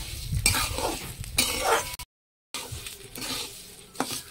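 Sugar being stirred into sago fried in ghee in a pan, with scraping and stirring strokes and a faint sizzle running through, broken by a short silent gap partway.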